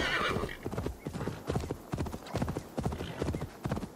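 Horse hooves clip-clop in a rapid galloping rhythm with a whinny over them, from a horse ridden in the video game Assassin's Creed Valhalla, loud and close, with a voice faintly in the background.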